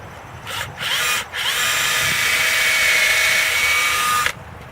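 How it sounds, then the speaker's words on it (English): A power drill boring a hole into a living tree trunk, two short whirring bursts and then one long steady high whine that cuts off sharply, loud and close with no talk. "isn't it bad when you drill a hole in the tree?"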